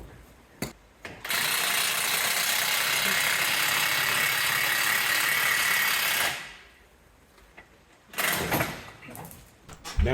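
A ratchet tool is worked steadily on the brake caliper of an Alfa Romeo for about five seconds, a loud continuous rattling clatter. Shorter mechanical bursts come before and after it.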